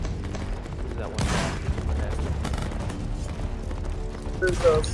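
A video game firefight plays out with steady distant gunfire and occasional booms under ongoing voice chatter, a louder burst arriving near the end.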